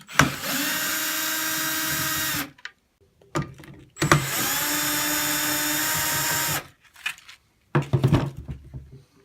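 A power driver backs screws out of the driver housing of an extruded-body luminaire. It makes two long, loud, close whirring runs of about two seconds each, separated by short clicks and handling noise, and ends with brief rattling bursts.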